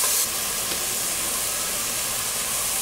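Broccoli florets sizzling in a hot pot during a stir-fry: a loud, steady hiss that stays constant throughout, with no talking.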